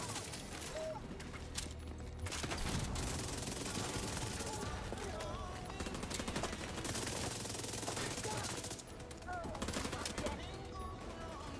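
Submachine gun fire in The Division 2, close-range shooting at enemy weak points, sounds as dense bursts of rapid automatic shots with game effects, continuous across the whole stretch and loud in the foreground, with voices mixed in.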